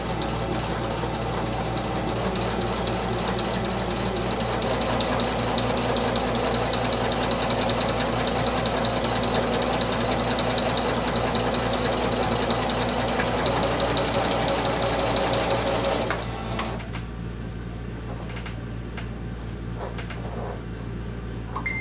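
A domestic sewing machine runs continuously and close while stitching a vinyl clutch wallet at an eighth-inch seam, then stops abruptly, leaving a quieter room with a few small clicks.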